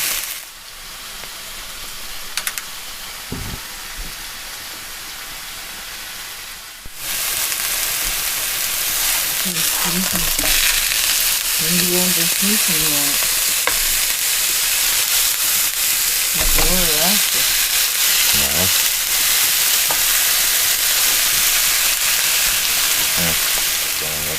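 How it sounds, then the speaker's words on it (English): Meat sears in a hot pan at an off-grid cabin, a steady broadband sizzle that jumps louder after a quieter opening stretch and keeps crackling continuously, with occasional scrapes and faint background voices. "Sear them a minute on each side, and then we'll do them probably 5 minutes each side"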